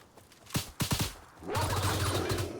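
Gunfire in the S.T.A.L.K.E.R. video game: a few sharp separate shots, then a sustained burst of rapid automatic fire that continues to the end.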